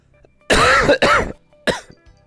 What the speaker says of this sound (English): I apologize if my coughing is really fucking loud.